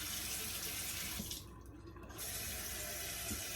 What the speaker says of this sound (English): The water is just pouring right in.